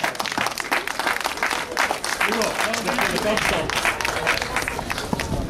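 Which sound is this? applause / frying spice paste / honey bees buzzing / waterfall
applause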